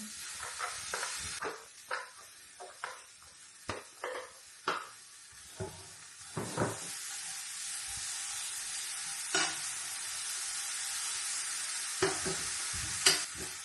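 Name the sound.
cooking adobo with a few potatoes in a pan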